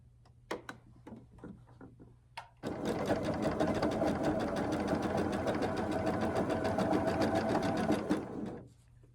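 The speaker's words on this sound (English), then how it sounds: "you are sewing directly on the line" A sewing machine runs steadily for several seconds, its rapid, even stitching chatter close and clear as it sews a quilt block along a marked line, starting abruptly after a few light handling clicks and stopping near the end.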